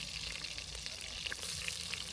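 Onion and chilli frying in a pan for a squid curry, with a steady close sizzle and faint stirring crackles running throughout, no voices.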